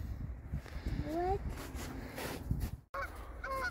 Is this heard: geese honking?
yes